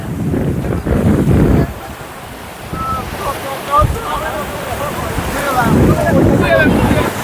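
Rising sea water washes in at the Digha river mouth, waves surging and wind buffeting the microphone near the shore, with occasional gull-like calls and bursts of nearby talk.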